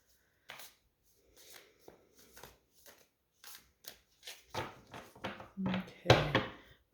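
A tarot card deck being shuffled by hand, with a series of soft riffling bursts and taps that grow busier and louder toward the end, close up and without talk.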